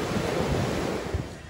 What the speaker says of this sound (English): you can see the waves still breaking